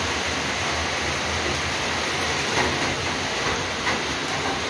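Heavy rain pours down and fills a drum, a loud, steady roar of broadband water noise with a few faint spatters rising above it.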